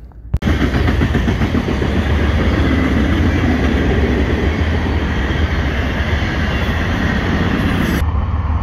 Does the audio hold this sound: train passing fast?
yes